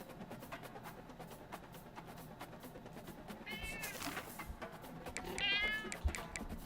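A house cat sniffs close to a microphone, faint tapping and rustling, then lets out two clear, drawn-out meows a couple of seconds apart, the second louder.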